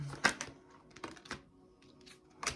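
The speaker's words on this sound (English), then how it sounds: "Let me just shuffle them in, because a lot of cards come out then" Tarot cards being shuffled by hand, giving a few quick crisp riffling and tapping bursts spaced unevenly, close and fairly quiet with no talking.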